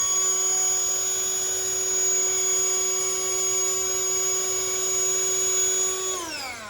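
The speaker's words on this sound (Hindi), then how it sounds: "एक फ़ोन के वेट को उठा पाएगा इसकी वैक्यूम सक्शन" A Bergmann Cyclonic wet-and-dry car vacuum cleaner with a tyre inflator runs its suction motor as a steady, loud, high-pitched whine that holds for several seconds, then winds down as it is switched off.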